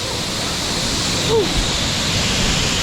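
Strong rushing water at Payaran Falls in rainy weather makes a steady, close, broadband roar that never lets up, with one faint brief tonal sound near the middle.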